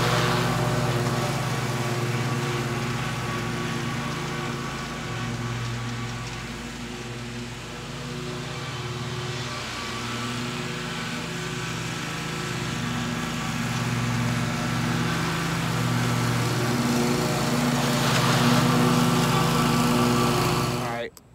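A lawn mower cuts grass in a yard. Its engine drones loudly and steadily nearby the whole time, then cuts off abruptly at the end.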